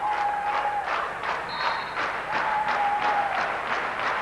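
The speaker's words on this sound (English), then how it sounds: "The crowd trying to rally Andrea Gomans to get the game point." Crowd at a 1993 NCAA Women's Division II volleyball Elite Eight match between Northern Michigan and New Haven, applauding and cheering in a steady, rolling wash of sound that fills the arena without letup.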